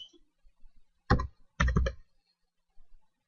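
Fingers type on a computer keyboard in two short, clattering bursts of keystrokes, close and clear, with quiet pauses around them.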